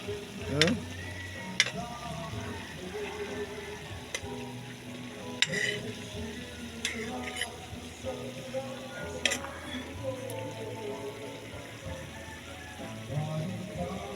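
Fish sautéed as Filipino ginisa with vinegar, oil and garlic, giving steady close sizzling and frying with scraping stirs and occasional utensil clacks against the pan, while a voice talks intermittently.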